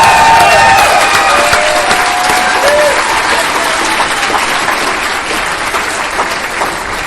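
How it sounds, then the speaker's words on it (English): Convention audience at a Saturday night banquet gathering breaking into loud, dense applause with some cheering and whistles near the start, gradually easing but staying full throughout. "so let's give them a round of applause"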